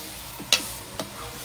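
Geera ribs are stirred in a pot: a steady sizzle runs throughout, with two sharp scraping clinks of a utensil against the pot close by.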